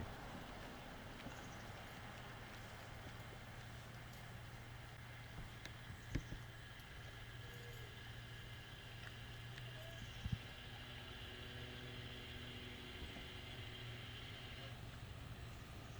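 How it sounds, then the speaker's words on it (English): Steady low rumble of intermittent road traffic from nearby Marine Road beside a disc golf course at a championship event, faint and continuous with a couple of brief knocks. "Some intermittent traffic noise off of Marine Road, fairly ever present."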